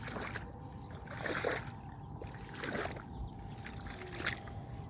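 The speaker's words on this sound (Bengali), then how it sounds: "এই যে এবার যাচ্ছি আমি জল কাদা উপর দিয়ে" Someone wades through water and mud in a marsh, making soft sloshing splashes that recur about every second or so over a quiet outdoor background.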